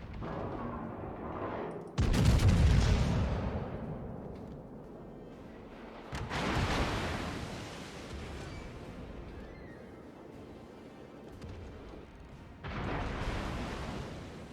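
Naval gunfire in the World of Warships video game, with three heavy booming salvos at about two-second, six-second and thirteen-second marks, each rolling off into a long rumbling tail, and no talk over them.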